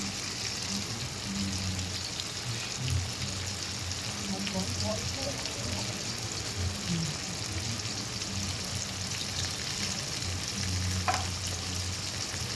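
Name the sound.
garlic paste frying with tomato in mutton fat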